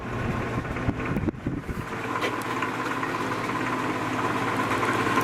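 A 1950s Patton electric fan running on low speed with a shaking motor gives off a steady low hum and rattle, with a brief clunk early on, then an even drone.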